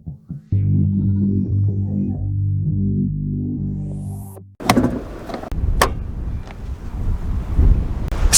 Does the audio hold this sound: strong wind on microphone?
yes